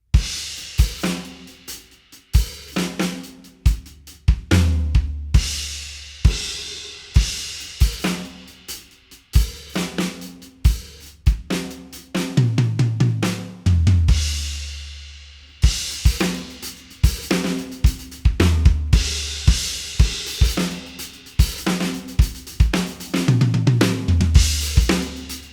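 A drum kit plays a four-bar chorus groove with open hi-hat, steady kick and snare hits with washy cymbal sustain, a tom fill partway through, loud and close with no talking.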